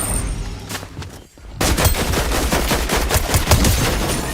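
Enemy gunfire in a shooter video game crackles as dense, rapid automatic bursts, loud and continuous after a short quieter lead-in.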